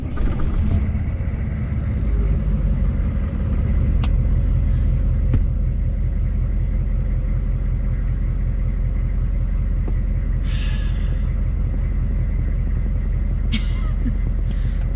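A 6.5 diesel engine in a truck, just back together with all its fuses, rumbles steadily at idle close by, a low continuous running drone with a few faint clicks and rattles on top.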